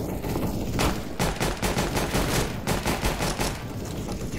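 Rapid gunfire from Counter-Strike: Global Offensive, a quick run of closely spaced shots in a burst through the middle, moderately loud over background game noise, with no talking.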